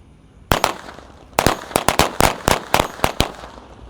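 Seven packs of assorted XL matchstick firecrackers, including Corsair XXL, bursting inside a water gallon: a rapid series of about a dozen loud, sharp cracks, one opening bang, then a dense irregular volley with hollow echoes and no talking.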